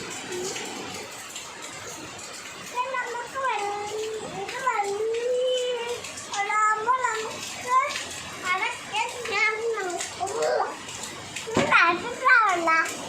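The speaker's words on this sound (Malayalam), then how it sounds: "ഈ വെള്ളത്തിൽ ചാടി നീന്തുന്നതാണോ?" Someone talks and babbles excitedly over sloshing, splashing rainwater pooled after heavy rain close by, with bursts of activity throughout.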